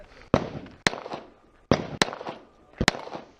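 Sharp reports from a compensated pistol at a two-gun action shooting match, fired outdoors at targets 20 to 35 yards away, five loud cracks in uneven pairs, each trailing into a brief echo.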